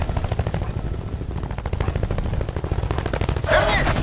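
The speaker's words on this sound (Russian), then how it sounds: "Артиллерия противника работает на этой области." Rapid bursts of machine-gun fire with distant artillery in a video game battle, the rattling shots repeating steadily before a louder blast near the end.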